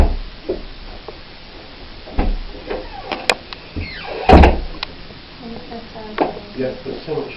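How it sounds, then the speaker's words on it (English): A heavy house door is shoved hard without the handle being pressed, giving several dull thuds and knocks, with one loud bang near the middle, in a reputedly haunted house at 30 East Drive. People talk quietly around the thuds. "try pushing it without pushing the handle down, Jess"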